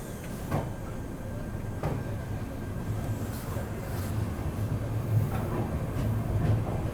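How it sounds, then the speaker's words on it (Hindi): Shri Shakti AC Superfast Express pulling out of Shri Mata Vaishno Devi Katra station in dense fog, heard from inside a coach: low rolling rumble with periodic wheel clacks and rattles, fairly quiet and steady. "तो अपनी श्री शक्ति एसी सुपरफास्ट निकल चुकी है श्री माता वैष्णो देवी कटरा रेलवे स्टेशन से।"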